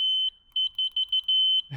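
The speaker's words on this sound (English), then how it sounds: "It's just like an electric beep, but most electric horns are like lower pitch than that." A Segway F2 Pro electric scooter's high-pitched electronic horn beeps repeatedly in short chirps, a steady tone with quick pulses, followed by a brief low thump.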